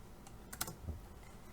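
A single computer keyboard key press, the Enter key struck while working in AutoCAD, giving one sharp, close click with a faint low thump just after, in an otherwise quiet room.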